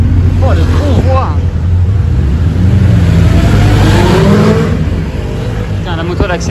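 Convoy of supercars accelerating through Monaco streets, including a Lamborghini Revuelto, McLaren 750S and Rimac, with loud continuous engine roar and rising revs close by, while people talk over it.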